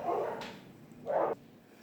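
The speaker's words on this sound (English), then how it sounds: "that's my dog's out there." A dog barking outdoors in a garden, two muffled, distant barks about a second apart with quiet between them.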